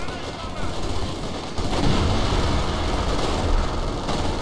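Rumbling gunfire and shelling in Company of Heroes 2, a steady dense barrage of rattling shots and deep booms that swells after the first second and continues loud throughout, with no voice over it.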